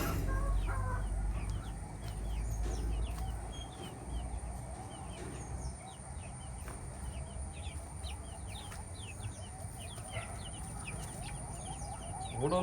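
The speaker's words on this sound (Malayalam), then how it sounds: "പുതിയ കോഴിക്കുഞ്ഞുങ്ങൾ കേട്ടോ." Newly arrived chicks on a mixed farm cluck and peep continuously, with adult fowl calls and an occasional distant crow mixed in, a busy close chorus filling the whole stretch.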